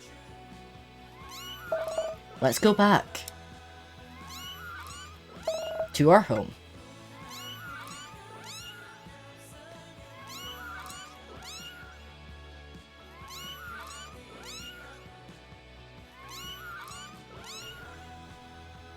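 Kittens in the video game What Comes After give repeated high, plaintive meows in a steady series, with a few louder calls early on and a person speaking over them at times.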